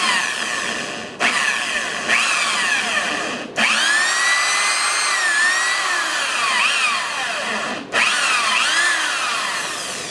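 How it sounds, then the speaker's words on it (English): A power drill bores through a cap so a boost leak tester gauge can be threaded in, running in long steady whining bursts with brief pauses and pitch sweeps as the load changes, loud and close. "to keep the over drilling from actually happening"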